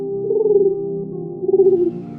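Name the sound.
dove cooing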